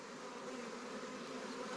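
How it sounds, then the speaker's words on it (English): A honeybee swarm buzzes steadily and densely close by on a rural property, a continuous droning hum with no pauses and no voices over it. "that'll be the third swarm I've caught this year right here on my own property"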